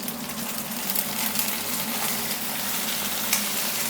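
Curry leaf sprigs fry in hot oil with a dense, steady crackling sizzle, close and loud throughout, without any talking.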